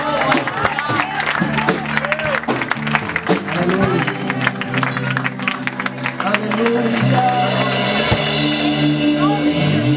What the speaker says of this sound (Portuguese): Dê uma salva de palmas para o Senhor Jesus.